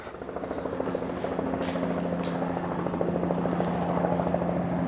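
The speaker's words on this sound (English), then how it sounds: "there's a cop helicopter again." A police helicopter passes overhead, its steady rotor thump rumbling loud and continuous throughout, with faint background noise and no talking.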